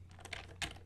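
Quiet, quick taps on a computer keyboard, a brief run of soft close clicks with one slightly louder keystroke near the end over low electrical hum.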